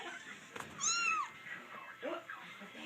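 A cat gives one clear, drawn-out meow at close range, rising and falling in pitch, amid light household background and brief faint voices nearby.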